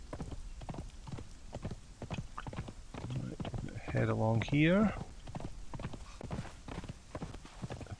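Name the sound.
horse hooves galloping in the video game Conan Exiles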